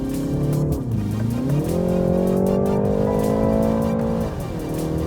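A 2019 BMW 330i M Sport engine revs hard and climbs steadily in pitch to just under 7,000 RPM, holding a high, strained whine before dropping back, loud and close with no talking.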